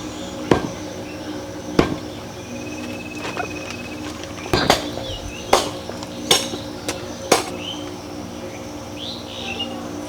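Meat is chopped for Eid with a blade on a block, giving irregular sharp thwacks, some single and some in quick pairs, close by, with faint bird chirps in the background between strikes.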